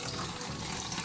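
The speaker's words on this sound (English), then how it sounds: "Go ahead and pour it on in." Cornbread dressing stock is poured through a strainer into a bowl, making a steady, soft, close rush of liquid that runs evenly for about a second with no talk.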